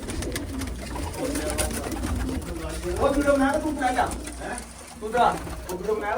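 Pigeons coo in soft repeated throaty phrases close by, the low rolling calls layered under someone talking over them at a pigeon-flying event.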